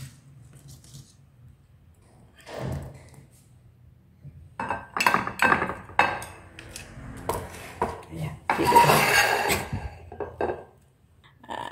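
Boiled, freshly picked pesticide-free beans scooped out of a cooking pot, with a quiet start, then a busy run of clinks, scrapes and metallic clatter of a utensil against the pot, fairly close and loud.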